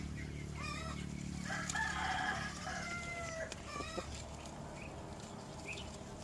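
A black mottled Brahma chicken crows on a farm, with a drawn-out cry followed by a few clucks, fairly close and moderately loud against faint background noise.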